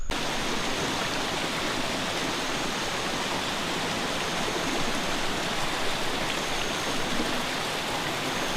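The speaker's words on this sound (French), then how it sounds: "on y trouve une cascade avec une rivière qu'on appelle aussi Rio Celeste" Rio Celeste waterfall and river in Costa Rica pour with a constant, broad rushing hiss, steady and fairly loud throughout, with no voices over the flow.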